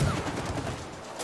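Rapid gunfire in It Takes Two, a dense continuous volley of shots lasting just over a second, loud and close, with no talk.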